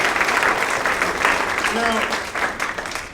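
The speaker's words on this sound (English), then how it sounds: "just give a round of applause for my parents." A comedy club audience at Hyena's in Dallas claps in a steady round of applause, close and fairly loud, while a voice talks over it briefly.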